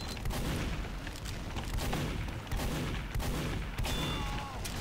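Rapid gunfire and explosions from the Team Fortress 2 video game, with dense overlapping shots and blasts running steadily throughout the clip at a loud level.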